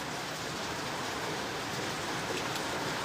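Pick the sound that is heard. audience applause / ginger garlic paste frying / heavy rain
heavy rain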